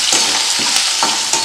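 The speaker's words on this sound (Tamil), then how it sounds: "இப்போ பாருங்கள், வதங்கிட்டு இருக்குது" Shallots, ginger and garlic sautéing in a hot pan for pirandai thuvaiyal, with a loud continuous sizzle and a few sharp spatula scrapes at regular intervals.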